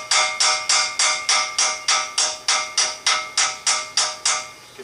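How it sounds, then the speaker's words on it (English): A 300-gram chasing hammer strikes metal in a steady, even rhythm, about fourteen bright ringing taps, close and clear with nothing else heard. "continue working with my 300-gram chasing hammer in a more comfortable and convenient manner"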